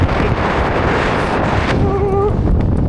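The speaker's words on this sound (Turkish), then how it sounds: "Biraz rüzgar var." Steady wind buffets the microphone with a low, rumbling roar throughout, and a brief faint tonal squeal briefly cuts through near the end.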